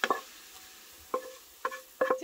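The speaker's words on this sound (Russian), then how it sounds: "не забываем перемешивать лук, чтобы он у нас не подгорел" A spoon stirs onions frying in a skillet, making a few short, close scraping strokes over a faint sizzle, spaced about half a second apart.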